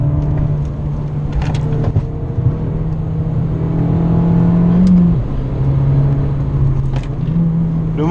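A turbocharged Abarth 595 Competizione engine (160 hp) hums and revs up steadily from inside the cabin, with a couple of brief clicks and gear shifts along the way.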